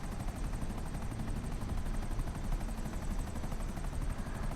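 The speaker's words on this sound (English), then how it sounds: "My chopper's dead." Continuous rotor chop and engine drone of a helicopter in GTA Online, loud and steady from start to finish with no voices.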